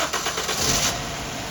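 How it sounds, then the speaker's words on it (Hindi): A car engine in a home garage cranks and catches during a radiator flush job, a short muffled start that settles into a steady running hum. "करते हैं गाड़ी स्टार्ट।"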